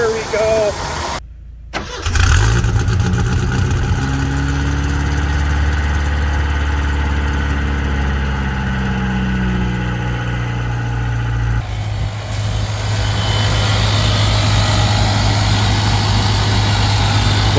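Old Ford Ranger with a 2.3 gas engine cranks briefly on a cold start, then catches and settles into a steady, loud idle that runs to the end.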